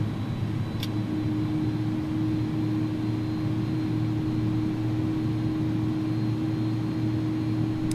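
An iniBuilds A300 airliner taxiing in X-Plane 11, heard as a steady, continuous engine drone with a strong low hum and broadband rush, unbroken and even in level throughout, with no talk over it.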